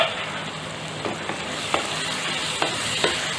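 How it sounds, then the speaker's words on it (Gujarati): Pointed gourd (parwal) shaak being stirred in a pan over a medium flame, with a steady soft sizzle and several distinct spoon scrapes against the pan at irregular intervals, close and clear with no talking. "એક વખત બધું સરસ મિક્સ કરી લેવું"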